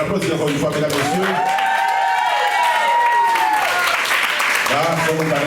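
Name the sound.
audience applauding at class reunion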